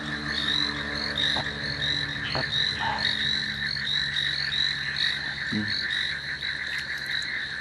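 Tiger frogs croak in a dense, continuous chorus, with many overlapping calls forming a steady, loud drone from close by, broken by a few sharp clicks.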